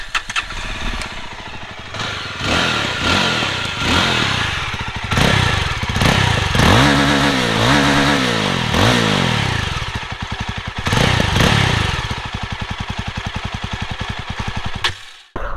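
A 2024 Yezdi Roadster motorcycle starts up and idles close by, its single-cylinder exhaust thumping in a steady beat, then blipping through several throttle revs before settling back.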